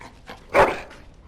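A dog in the Dragon Age: Origins game gives a single short yelp or whimper, close and fairly loud, with faint softer sounds around it.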